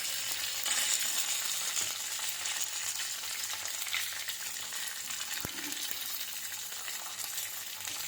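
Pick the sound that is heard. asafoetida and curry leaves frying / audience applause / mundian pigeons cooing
asafoetida and curry leaves frying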